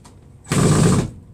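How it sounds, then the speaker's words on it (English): A power driver unscrews screws from the top panel of an old camper trailer in one short, loud mechanical whirring burst of about half a second, close by. "I'm gonna unscrew the top panel and just see what happens."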